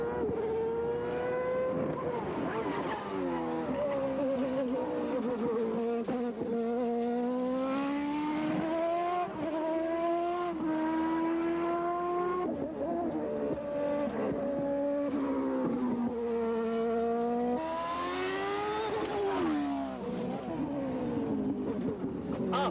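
A 1993 IndyCar race car with a manual gearbox laps a test circuit, its engine note climbing and dropping through repeated upshifts and downshifts, loud and continuous throughout.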